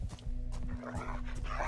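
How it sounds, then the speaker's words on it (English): Dogs barking in the survival video game Next Day: Survival, several short barks and yips at moderate distance over a low steady hum of game ambience. "Oh, dogs!"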